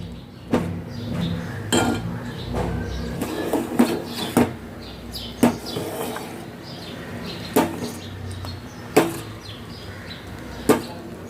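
A spoon stirs custard continuously in a pan, clinking against the metal at a slow, fairly regular pace with soft scraping between the taps, close and moderately loud.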